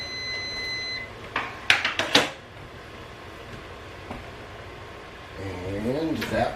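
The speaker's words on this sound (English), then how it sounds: "And that was the timer to tell me to check the biscuits." Kitchen timer set for baking biscuits, a short run of high, evenly pitched beeps near the start, followed by clattering kitchen noise and a person talking.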